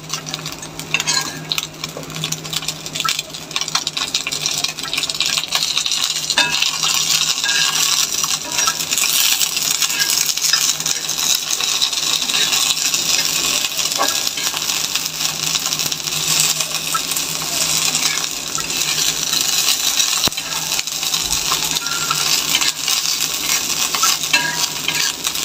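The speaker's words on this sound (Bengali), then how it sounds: "কাঁটাগুলো ফ্রাই করার সময় উল্টিয়ে পাল্টিয়ে অনবরত নেড়ে যেতে হবে" Fish bones frying in a pan give off a continuous loud sizzle, broken by constant clinks and scrapes as they are stirred and turned over, with no talk.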